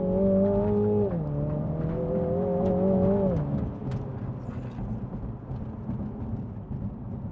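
A MINI John Cooper Works GP3 accelerates hard, its engine note climbing loud and close through two rising pulls before an upshift drops it to a lower, steadier drone that fades slightly.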